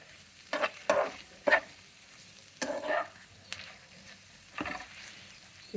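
Ivy gourd fry with coriander and garlic being stirred in a pan: separate scraping, sizzling strokes come at uneven intervals over a quiet, low background crackle, close and clear, with no talk.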